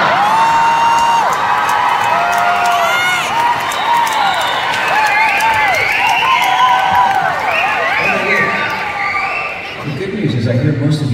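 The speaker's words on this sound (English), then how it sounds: "I hear most of you cheering." Concert audience at a live show in Canberra, Australia, cheering and whooping loudly and continuously, with shouts and scattered applause from a large crowd close up.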